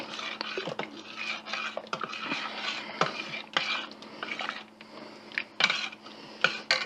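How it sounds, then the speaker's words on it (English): A quick stir of cheesy potato soup in an Instant Pot, close scraping and clinks of a utensil against the metal pot in irregular strokes, with a faint steady hum underneath. "Just give it a quick stir."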